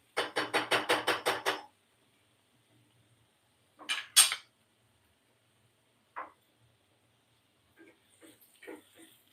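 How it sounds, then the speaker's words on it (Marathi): A metal spoon clinks rapidly against a pan while onions cook for anda ghotala, a quick string of about seven taps followed by a few sparse, fainter clinks and scrapes. "आता तो आवाज येतो ना चमच्याचा"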